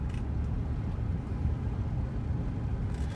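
A Bentley Brooklands being driven, heard from inside as a steady low road rumble and engine drone, constant and moderately quiet with no voices.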